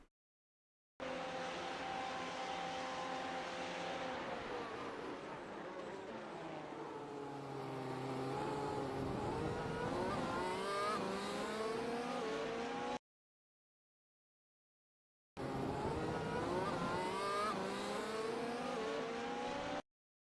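Race car engine in the iRacing sim at Magny-Cours, France, loud and close with harmonic revs climbing and dropping through gear changes, cut off by a few seconds of silence before resuming at high revs.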